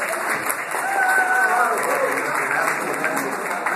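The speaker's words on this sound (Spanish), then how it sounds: "Bueno, continúe el aplauso." Dense applause from a crowd at a folk music and dance gathering, steady and loud throughout, with voices mixed in under the clapping.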